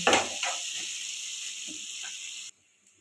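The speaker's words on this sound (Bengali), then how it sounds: "কুচিয়ে রাখা পেঁয়াজের সঙ্গে দিয়ে দিলাম। দিয়ে আমি কিছুটা নাড়াচাড়া করবো, লাল লাল করে একটু ভেজে নেব।" Chopped onions frying in hot oil with black cumin give a steady, close sizzle with a few stirring scrapes, then cut off abruptly near the end.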